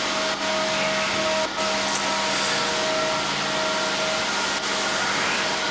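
A large Alexanderson alternator at the Grimeton radio station runs steadily on its 1200-volt drive motor, a continuous loud mechanical hum with fixed tones and broadband whir, unbroken throughout.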